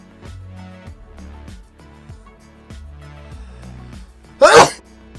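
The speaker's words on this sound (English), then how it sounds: "hold on, I have to sneeze." A single loud, forceful sneeze bursts out near the end, following a stretch of quiet background music.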